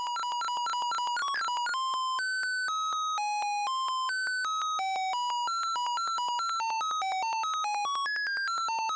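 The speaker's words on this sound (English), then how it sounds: "we have our chaotic stream, but as I bias the signal one way or the other, now we get a 4-step repeating pattern" A Benjolin modular synth patch plays a chaotic stepped pattern of clear electronic tones. It opens with quick repeated pulses, then moves to a steady sequence of pitched notes that jump up and down, alone and fairly loud.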